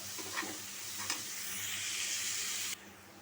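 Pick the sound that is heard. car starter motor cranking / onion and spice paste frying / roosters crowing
onion and spice paste frying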